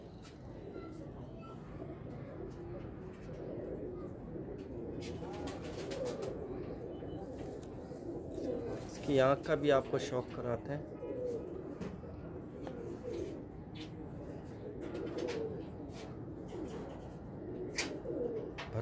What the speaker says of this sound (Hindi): हम लोग गोल्डन कबूतर इनको कहते हैं